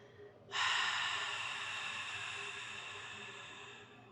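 A slow, breathy exhale pushed out through the mouth, starting suddenly after a quiet moment and fading gradually over about three and a half seconds, close and alone.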